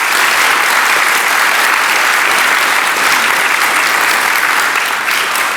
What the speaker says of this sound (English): Please give one more round of applause for the Tullahoma High School Chamber Singers.